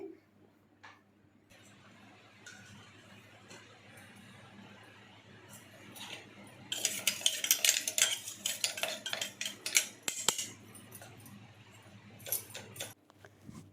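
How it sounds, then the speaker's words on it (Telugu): Homemade turmeric powder is sieved in a metal sieve, starting with quiet scraping that turns into dense, busy rattling and tapping of metal. The sound is close and loud, and a voice talks over part of it. "ఈ పసుపునంతా ఇప్పుడు జల్లించేస్తున్నానండి"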